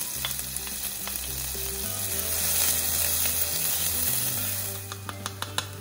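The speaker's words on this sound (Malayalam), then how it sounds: "കടുക് പൊട്ടി കഴിയുമ്പോൾ ചതച്ചു വെച്ച ചുവന്ന ഉള്ളി ചേർക്കാം." Mustard seeds and crushed red shallots fry in coconut oil in an uruli, giving a steady close sizzle and crackle with a low hum underneath and a few sharp pops toward the end.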